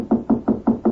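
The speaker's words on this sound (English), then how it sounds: "Oh, you see who's at the door, Rusty?" Five firm, evenly spaced knocks rap on an office door in an old radio drama, close and distinct, with no talking over them.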